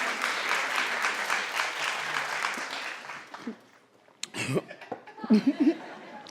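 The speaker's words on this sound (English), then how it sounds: "But you can clap for the next girl." Audience applause with scattered laughter fills the first three seconds, fading into quieter crowd murmurs and a few chuckles near the end, at what appears to be a fashion-style runway event.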